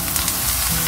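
Garlic frying in a pan for a vegetable cannelloni sauce, giving a steady, close, broadband sizzle that barely changes over a brief moment, with no voices.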